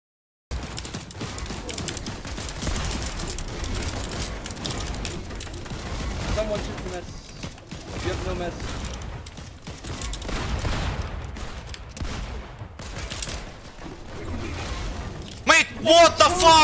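Rapid gunfire bursts from the Fortnite video game during a tournament grand final, dense and continuous under excited team voice chat, with a louder cluster of shots near the end.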